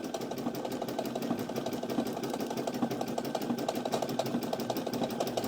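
A domestic sewing machine stitches a zigzag or buttonhole stitch to appliqué a bunny on a dishtowel: a steady, close, whirring mechanical hum with a fast, even needle rhythm that runs the whole time, and no one talks.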